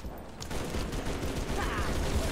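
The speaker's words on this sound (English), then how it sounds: "Ah, this machine gun." Sustained automatic fire from a machine gun in Halo 3, a dense continuous burst of rapid shots throughout, with a voice speaking faintly underneath.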